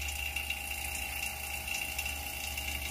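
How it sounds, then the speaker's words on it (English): An AC vacuum pump runs steadily, a constant mechanical hum with a whining tone and faint rattling, close by and without speech. "if your vacuum pump sounds like this"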